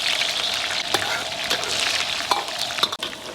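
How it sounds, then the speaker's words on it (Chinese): Scallion and ginger fry in hot oil in a wok for Sichuan pepper chicken, a loud, steady close sizzle with a few scrape and clink accents from stirring, with no talk. "葱姜爆香"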